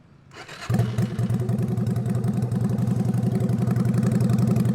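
A custom bobber motorcycle engine in Sportster style cranks and catches, then settles into a steady, loud, throbbing idle with a rapid rhythmic pulse.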